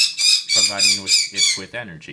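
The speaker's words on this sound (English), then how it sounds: "I'm sorry about the birds." Birds squawk loudly and close by in several harsh, repeated calls while a person talks over them.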